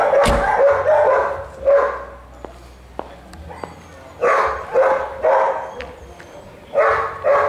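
A dog barks in repeated bursts, close and loud, with short pauses between groups of barks and some sharp clicks in the gaps.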